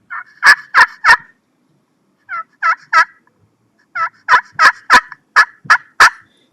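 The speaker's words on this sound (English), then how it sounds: "Throw some yelps in there." Series of raspy turkey yelps from a call, in short runs of three to seven notes with pauses between groups, loud and close.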